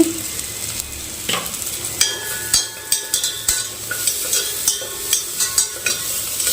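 Vegetables frying in a pan for vegetable kichidi give a steady sizzle, with repeated scraping taps of a spoon stirring at an uneven rhythm, close and fairly loud.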